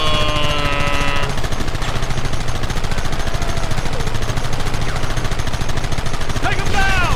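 Continuous heavy gunfire in Red Dead Redemption, a dense relentless rattle of shots under a roaring engine-like drone, loud and close, with a shout briefly near the start and end.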